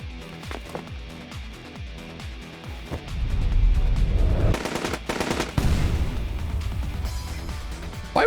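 Video game gunfire from AI: The Somnium Files: a rapid rhythmic run of shots early on gives way to a loud, sustained barrage of heavy bursts and crashes, close and dominant with no talking.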